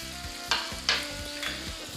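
Fried kofta kebabs dropped into hot masala in a pan, giving a steady close sizzle with a few sharp scraping stirs and soft clatters as they are mixed in.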